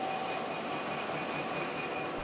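Rail cars carrying armor tanks arrive at the Fort Benning railhead, giving a steady, continuous rumble with high sustained wheel squeal tones throughout, close and unbroken, with no voices.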